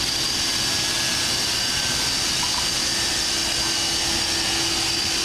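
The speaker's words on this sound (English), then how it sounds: "It's basically a 12 horsepower Mitsubishi commercial router." A 12-horsepower Mitsubishi commercial CNC router with a skirt and 4-inch dust collection duct roars steadily and loudly, a continuous broadband whine with a faint high tone and no gaps.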